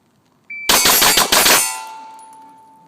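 A Glock 17 pistol fires six rapid shots at steel plates after a short beep, the sharp cracks bunched within a second and mixed with ringing metallic clangs that fade into a sustained steel-plate hum.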